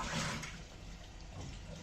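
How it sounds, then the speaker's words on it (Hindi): Water is poured into a pan in a home kitchen before boiling pasta, a soft splashing gush that is strongest at the start and then trails into a quieter steady trickle. "इस पैन में मैं थोड़ा सा पानी लूंगी"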